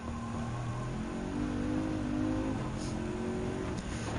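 A car engine revs in Gran Turismo 7, a steady loud drone with rising and falling tones as the speed climbs past 200 km/h, continuous throughout and without talk.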